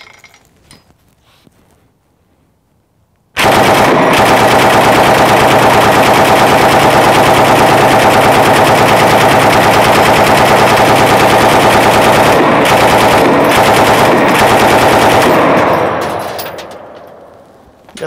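Vehicle-mounted machine gun in the video game Mobile Strike fires in one long, loud, unbroken burst of rapid shots that runs for about twelve seconds after a quiet start, then fades out.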